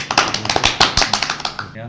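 A small group claps to greet a guest at a business talk-show taping, crisp, close hand claps in a quick, fairly regular rhythm that tapers off at the end.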